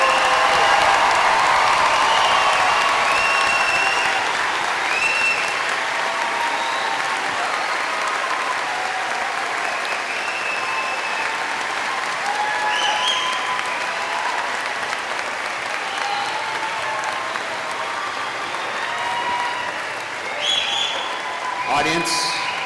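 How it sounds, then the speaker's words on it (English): A middle school crowd applauds and cheers the graduating eighth-grade class at a promotion ceremony, a long sustained roar of clapping with occasional whoops and scattered voices, tapering slightly toward the end. "Big round of applause for the Heineman class of 2019."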